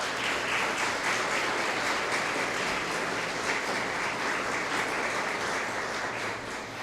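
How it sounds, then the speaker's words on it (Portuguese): A church congregation applauds in a dense, sustained wash of clapping that holds steady for several seconds before easing slightly at the end. "Vamos aplaudir o nosso Deus, por favor."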